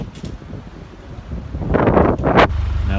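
Strong wind buffeting the microphone aboard a narrowboat leaving Limehouse on the Regent's Canal, low rumbling gusts that swell and roar loudly toward the end.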